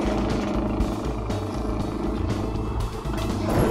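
The Mountain Racer 6x6 drives in Trailmakers, a throbbing, buzzy motor drone with shifting pitch and a few clunks, loud and continuous.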